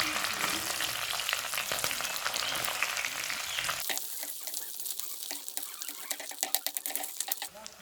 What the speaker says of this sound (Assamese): এতিয়া আমি মাছখিনি অলপ লুটিয়াই দিম।